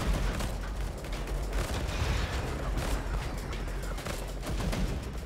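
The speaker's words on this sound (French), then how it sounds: "Le truc c'est qu'il tire de manière automatique, t'appuies sur aucun bouton pour tirer." Continuous rapid automatic gunfire from the shooter game Cloud Cutter rattles steadily at a dense rhythm, fairly loud and sustained throughout, with occasional heavier blasts mixed in.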